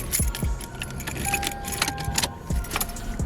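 Metal car keys jangle and clink in several bursts, close by, with a steady low hum from a Toyota JZX100 underneath.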